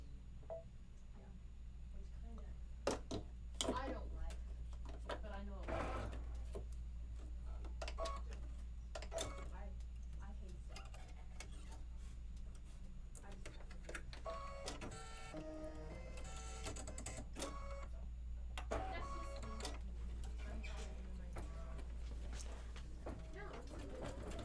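A Baby Lock Solaris embroidery machine stitches out a design, giving a steady rapid mechanical whir with repeated clicking and tapping bursts throughout, over a constant low hum at moderate level, with speech heard faintly in the background.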